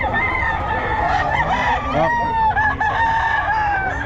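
A rooster crows loudly nearby, a long drawn-out call, with a brief voice exclaiming and other people faintly audible around it.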